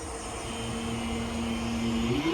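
Northern passenger train pulling out of Stoke-on-Trent for Manchester Piccadilly, a steady low engine drone holding one pitch and then rising as it moves off, heard alone at moderate distance.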